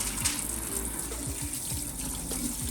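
Tap water runs steadily over brined meat being rinsed off after a long soak, a continuous close splashing gush with no talking.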